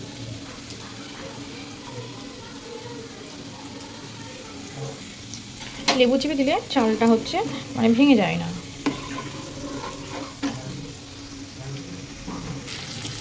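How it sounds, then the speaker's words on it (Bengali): Vegetables fried in a pan on a gas stove beside a rice dish, a steady soft sizzle with bursts of stirring and scraping in the middle, while someone talks throughout. "আর এদিকে সবজিগুলো ভেজে নিচ্ছি"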